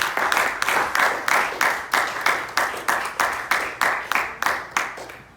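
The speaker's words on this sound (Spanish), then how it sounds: "Denle una ofrenda de aplauso al Maestro." A church congregation claps together in a steady rhythm, about three sharp, crisp beats per second, sustained and fairly loud with no talking over it.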